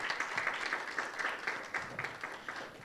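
Quiet applause greets a speaker joining a panel on digital innovation, AI and democracy: soft, fairly distant clapping with a loose rhythmic pulse that carries on steadily without talk.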